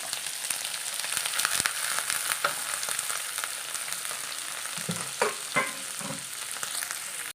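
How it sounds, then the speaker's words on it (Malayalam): Curry leaves, onion, tomato, ginger and garlic sauté in hot oil for a fish curry, giving a steady close sizzle with occasional stirring scrapes and small pops, no voices. "കറിവേപ്പില ഇട്ട് കൊടുക്കാം നമുക്കൊന്ന് വഴച്ചെടുക്കാം"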